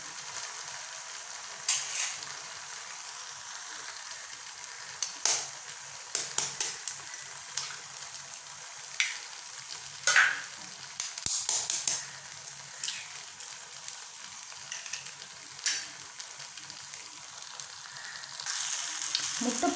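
Chilli chapathi with eggs fries in a pan, giving a steady close sizzle with irregular bursts of crackling and spatula stirring, growing louder near the end, with no voices.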